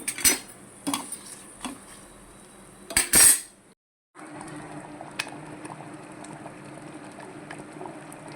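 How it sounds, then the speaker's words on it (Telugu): Cucumber dal with tamarind juice in a pot on the stove: loud clinks and clatter of utensils at first, a brief hush, then a low steady bubbling and simmering that carries on alone. "మనకి పప్పు అయితే మంచిగా మనం చింతపండు రసం వేసుకున్నాం కాబట్టి మంచిగా మరుగుతుంది అన్నమాట"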